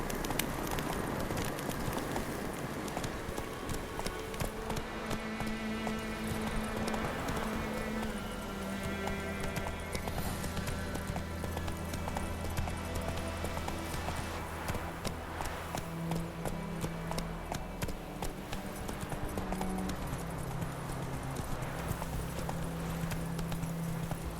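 Roach, a horse in The Witcher 3, gallops with steady rapid clip-clop hoofbeats throughout, occasional whinnies and a faint voice over the continuous game soundscape.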